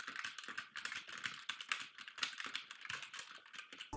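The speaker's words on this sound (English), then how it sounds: "But if you had mechanical keyboards, you get more of this." Rapid typing on a mechanical computer keyboard, a quick irregular stream of crisp clicks and clacks, close and clear with no voices.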